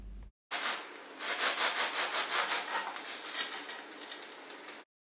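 Knife sawing through a toasted cheese sandwich with crisp bread, a steady close rasping crunch lasting several seconds without talk, ending abruptly.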